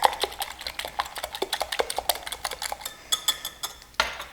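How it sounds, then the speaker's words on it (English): Whisk clinking repeatedly against a bowl while mixing financier pastry batter, a steady run of quick, close metallic taps with a brief pause before the final strokes. "And then we're just going to whisk it up a little bit"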